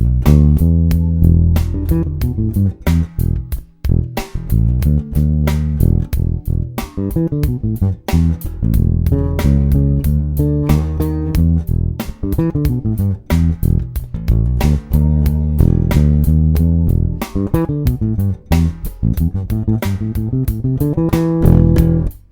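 A bass guitar plays a bouncy pentatonic groove in E, plucked notes repeating in a steady, punchy rhythm, loud and close with no talking.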